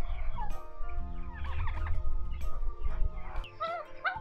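Several turkeys at a garden cafe farm in Silang, Cavite, Philippines gobble in rapid, warbling bursts at close range, calls overlapping over low background rumble.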